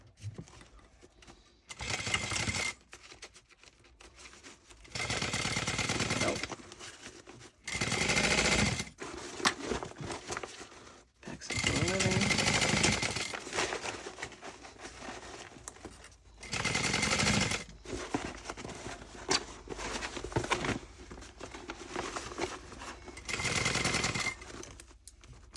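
Sewing machine back stitching over the webbing of a tote bag, running in short bursts of a few seconds each with pauses between, close and fairly quiet.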